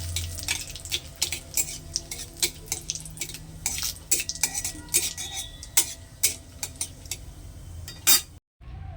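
Cumin, a bay leaf and salt frying in oil in a pan while being stirred, repeated close metallic clinks and scrapes of a utensil over a soft sizzle, with no talking.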